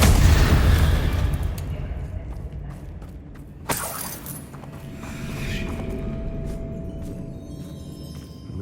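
A Confringo fire spell from Hogwarts Legacy on PS5 explodes with a loud, rumbling blast that fades into crackling debris. A second sharp burst follows partway through, then a quieter hum with a faint tone lingers.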